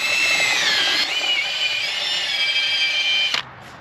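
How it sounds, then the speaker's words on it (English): A close, loud high-pitched drill with a 3/16 step bit whines steadily as it bores through an aluminum rivet, pitch wavering slightly, then cuts off abruptly near the end. "3/16 drill bit, and I'm gonna go right through"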